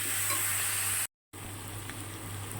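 Boiled soybeans fry with spices in a pan, giving a steady, dense sizzle with scraping as they are stirred. A brief silent gap breaks the sound, then the frying picks up again at the same level.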